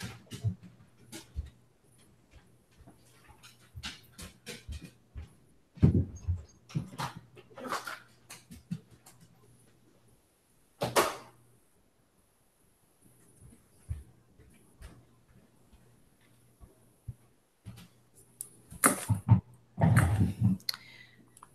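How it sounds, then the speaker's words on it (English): A dog whimpers and shuffles around a room in scattered soft bursts, with faint clicks of claws or movement between them and no talking. "I got to let my dog out."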